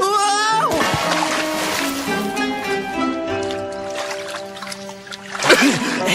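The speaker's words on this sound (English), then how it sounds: "Who's that guy making the big splash?" A loud rush of churning, splashing water with dripping and sloshing, mixed with musical tones and a few bright sweeping effects.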